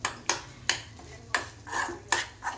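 Greens and grated coconut are stirred as they fry in a pan, with a spatula scraping the metal in about seven quick, regular strokes, close up and fairly quiet.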